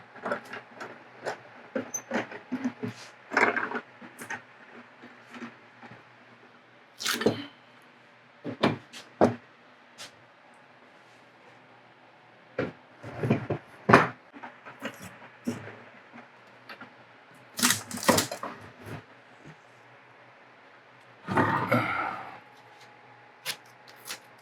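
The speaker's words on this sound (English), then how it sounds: "this is dried overnight. Start unclamping it." Wooden clamps are removed from a glued butcher block in a quiet workshop, giving scattered clunks, knocks and short ratchety rattles spread irregularly through the stretch with pauses between them.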